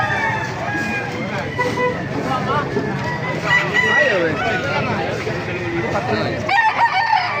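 Roosters crow repeatedly at a busy rooster market in Baliuag, their loud calls rising over a steady hubbub of crowd chatter and nearby voices.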